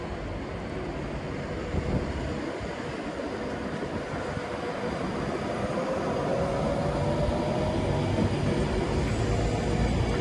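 A Class 390 electric train, unit 390.148, runs through Sandwell & Dudley station, a loud continuous rumble and rail roar that holds steady and builds slightly as it passes nearby.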